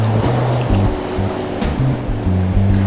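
Ocean surf washing onto a beach during an April storm at the tide line, a steady, loud rush of breaking water with repeated wave swells, and no voices over it.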